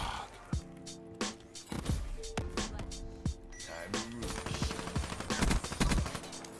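Gunshots ring out in a Call of Duty Black Ops match as a string of sharp, separate cracks and short bursts. Some shots land close together and others are spaced apart, over busy game noise, and the firing grows denser toward the end.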